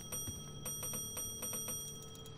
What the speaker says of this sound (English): Oh, there's a bell here.